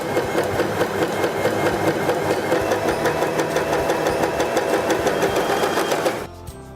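Janome 311 sewing machine stitching a decorative seam joining two pieces of fabric, a steady, loud mechanical whir with rapid even clatter running continuously, then stopping abruptly near the end.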